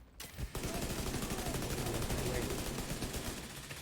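Sustained rapid automatic gunfire rattles almost without pause at a raid boss's weak points in the video game Division 2, a dense, steady stream of shots after a brief quiet start.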